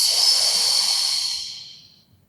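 One long, airy in-breath drawn during a morning stretching routine, close and clear, a soft hiss that holds steady and then tapers off to silence after about two seconds.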